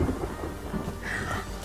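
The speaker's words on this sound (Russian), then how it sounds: "А вот и молния, и гром появилась." Thunder in the survival video game The Forest: a low, steady rumble rolls through the full clip, with a brighter crackling swell near the end and no talking.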